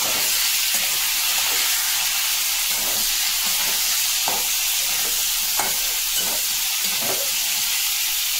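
Kohlrabi fries in white vegetable oil with a loud, continuous sizzle and hiss, broken by brief scraping bursts as the pieces are stirred; no voices.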